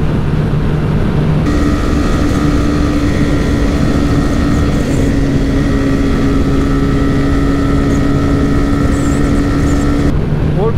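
A Bajaj Pulsar 125 motorcycle engine pulls hard at speed in a drag race against a TVS Raider 125, giving a steady, loud, droning whine with strong wind rush over the microphone throughout.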